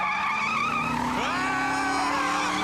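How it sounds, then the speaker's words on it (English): Tires squeal loudly in a skid during a cartoon car accident, a sustained screech that bends and shifts in pitch midway with engine tone beneath. "an aroused driver caused a bad car accident while listening to the audiobook"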